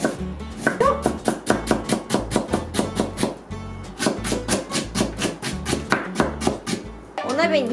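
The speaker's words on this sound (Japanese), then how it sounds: "生姜をね、ちょっと2かけ分ぐらいかな、たっぷりめに千切りにします。" Rapid, rhythmic knife chops tap against a cutting board in quick runs, close and crisp, as ginger is cut into fine julienne, with a voice speaking over the chopping.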